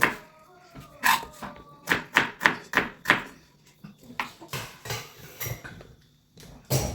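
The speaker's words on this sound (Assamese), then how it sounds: "তিনিটা পিঁয়াজ সৰুকৈ কাটি ল'ব" Onions being finely chopped with a knife for an Assamese duck curry with ash gourd: crisp, rhythmic knife strikes on a board, close and fairly loud, in quick bursts separated by short pauses.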